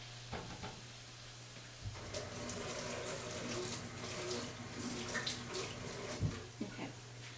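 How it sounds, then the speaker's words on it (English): A kitchen tap runs steadily as something is rinsed while a family meal is cooked, a close continuous splash with a few clinks and knocks around the sink. "So let me rinse this off."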